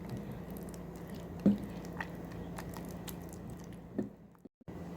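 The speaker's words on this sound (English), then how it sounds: "I'm gonna stir it." Banana pudding popcorn mixture being stirred in a bowl, heard as soft, wet squishing and faint clicks, close but quiet over a low background hum, with no voices.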